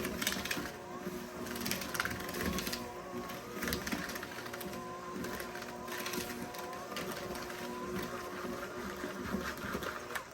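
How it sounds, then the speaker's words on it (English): Electric mixer whirring on low speed through peanut butter cookie dough in a bowl, a steady mechanical drone with rhythmic grinding for the whole stretch, close and continuous. "Then you're going to mix this on low so that it doesn't splatter everywhere."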